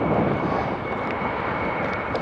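A fixed-wing airliner passes close by during plane spotting, a loud steady roar of its engines filling the clip without pause.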